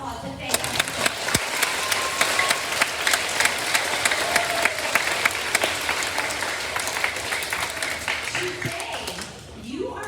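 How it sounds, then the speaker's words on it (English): Students at an elementary school assembly give school board members a round of applause, steady crowd clapping with a few cheers and voices mixed in, tapering off near the end. "let's give them a round of applause to thank them"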